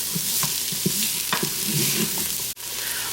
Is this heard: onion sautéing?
yes